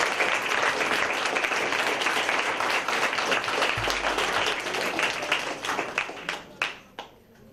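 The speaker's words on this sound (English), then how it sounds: "I request the students to give a big round of applause." An audience of students at a CSIR-CLRI event gives a big round of applause, dense sustained clapping that holds steady for several seconds before thinning into a few scattered final claps.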